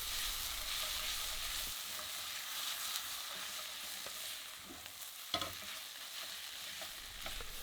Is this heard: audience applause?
no